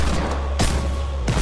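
Two heavy booming shots from a hand cannon in the video game Fortnite, spaced well apart, each a sharp loud blast with a short decay over a steady background hum.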